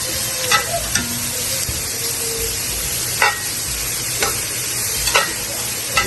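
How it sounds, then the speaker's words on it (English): Vegetables charring in olive oil and butter on a hot grill give a steady, dense sizzle, broken every second or so by sharp scrapes and stirring clicks; no voices. "I want to char these veggies up. So we got a little olive oil, we got some butter"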